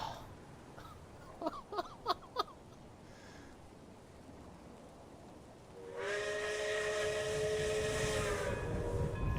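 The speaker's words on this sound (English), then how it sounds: "And there are just trains passing by." Trains pass by in the video game Genshin Impact, with a few sharp clanks early on, then a loud, sustained steam-whistle-like horn and a rolling rumble that fill the last few seconds.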